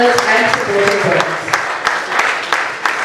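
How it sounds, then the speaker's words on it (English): Audience applause at an inaugural conference session, a steady patter of many hands clapping in a large room, with a voice faintly over it. "A big compounded round of applause to all of our sponsors"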